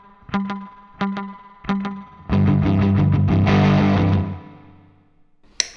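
Electric guitar through a Line 6 DL4 delay pedal set to a short slapback delay, three plucked notes each with a tight echo, then a loud strummed chord ringing about two seconds before cutting off.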